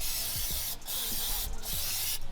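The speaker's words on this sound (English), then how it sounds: "Then you use some brake cleaner." Brake cleaner sprayed from an aerosol can onto a Brembo four-piston brake caliper: a loud, steady close hiss with a few brief gaps between bursts.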